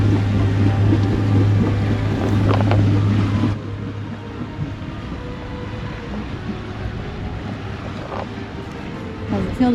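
A boat engine rumbles steadily as the boat gets underway, loud at first under wind buffeting on the microphone, then dropping to a quieter drone with water and wind noise.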